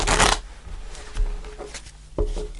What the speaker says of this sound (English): Let's pull the cards and see what we have.